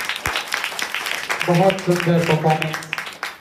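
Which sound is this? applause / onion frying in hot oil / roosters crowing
applause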